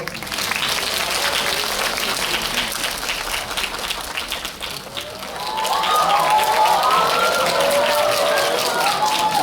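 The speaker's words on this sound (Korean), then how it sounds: "박수로 환영해 주세요" A cinema audience at a Korean film screening stage greeting claps to welcome the cast and director: sustained dense applause that dips briefly, then swells louder with cheering and whoops rising over it.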